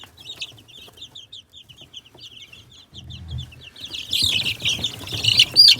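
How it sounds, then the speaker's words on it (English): Polish crested hens cluck and chirp softly in a quick, scattered series close by, growing busier and louder toward the end with some rustling movement. "Now, these are Polish crested hens."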